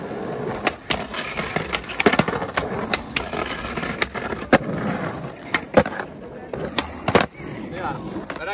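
Skateboarding at an outdoor skatepark in Pohjois-Haaga: wheels roll and grind with a slide, sharp board clacks and impacts recurring throughout, with some talk nearby.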